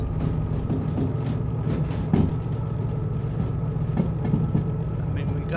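Train rolling on rails in the railway simulation game Derail Valley, a loud continuous rumble with periodic clicking wheel-on-track knocks throughout.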